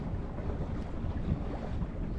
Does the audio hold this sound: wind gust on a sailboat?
yes